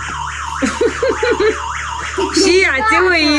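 A car alarm blares close by, cycling through rising and falling electronic siren tones, while a child and an adult talk over it.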